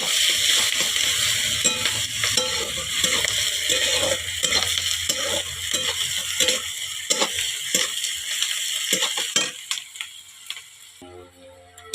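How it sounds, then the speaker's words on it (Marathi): Steady loud sizzling of onions frying in a wok, with stirring scrapes throughout, fading toward the end. "आता एका कढईमध्ये मी कांदा घालते"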